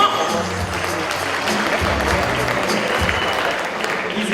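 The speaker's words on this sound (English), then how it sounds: "One more round of applause with these gentlemen" Audience applause for two gentlemen stepping onstage at a live show, a steady wash of clapping at moderate level with some speech underneath throughout.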